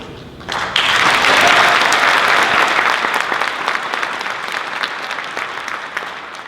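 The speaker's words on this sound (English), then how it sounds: "it's funny that you applauded there" A congregation at a Beth El synagogue Yom Ha'atzmaut gathering bursts into loud, dense clapping that starts abruptly, holds strong for a couple of seconds, then gradually thins and fades while still going, with no speech over it.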